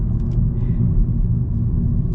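A 2022 Honda Civic Touring 1.5T rolls over small road bumps, giving a steady low cabin rumble of road and engine noise at constant loudness, with no distinct thumps standing out.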